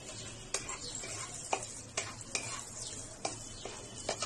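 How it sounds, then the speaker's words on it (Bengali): Raisins fry in hot butter over low heat, giving a steady soft sizzle broken by several sharp clicks and scrapes of stirring in the pan, close and fairly quiet. "মাখনটা গরম হয়ে গেছে, আমি আঁচ কমিয়ে তার মধ্যে কিশমিশটা দিয়ে দিলাম।"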